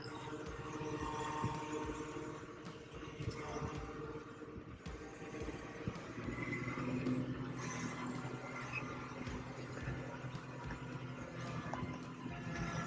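A newly arrived garden tiller runs with its throttle raised, producing a steady, fairly faint engine drone that holds evenly throughout with no voices.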